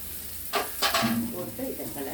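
Curry leaves, onion, ginger and garlic sautéing in oil, a close sizzle with two bursts of stirring scrapes against the pan.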